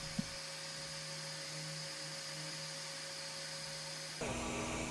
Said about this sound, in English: This is a process called a rabbet joint, and we do this on the router